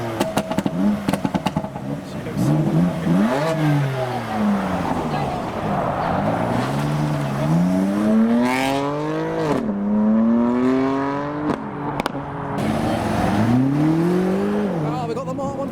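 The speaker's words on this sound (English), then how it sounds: "Noises from the M4 as he departs the show." A BMW M4 revs hard as it pulls away from a car show, the engine note rising and falling through several sweeping revs, loud and close, with other car sounds and crowd voices around.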